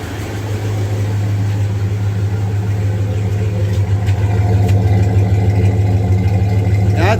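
A 2001 Dodge RAM 1500 pickup runs after an engine swap, a steady, loud, close idle with a low even rumble throughout and no talk.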